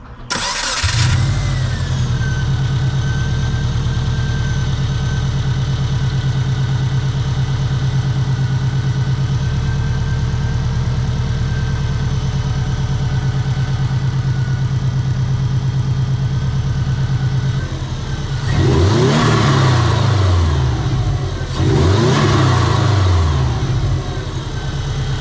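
A turbocharged Subaru Forester fitted with a flutter mod idles with a steady, loud rumble, then revs sharply twice near the end, each rise falling back to idle.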